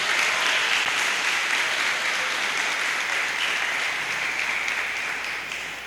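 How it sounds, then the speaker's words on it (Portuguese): A church congregation claps loudly and steadily during a worship service, a dense sustained burst of applause that fades slightly at the end, with no speech over it. "Aplauda esse Deus."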